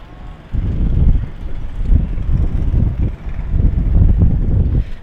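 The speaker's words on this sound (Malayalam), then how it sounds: "നല്ല കാറ്റും വീശുന്നുണ്ട് നല്ല കാറ്റ് എന്ന് പറഞ്ഞാൽ നല്ല സൂപ്പർ കാറ്റാണ്" Strong wind gusts buffet the microphone in rumbling bursts at a coastal lighthouse in Vypin, Ernakulam, with a brief lull before the roar returns.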